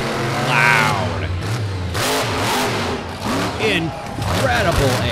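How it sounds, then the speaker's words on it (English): A monster truck engine revs loudly at a King of Miami event in Miami, Oklahoma, its throaty roar surging in waves under a crowd and an announcer talking over it. "this truck is just loud."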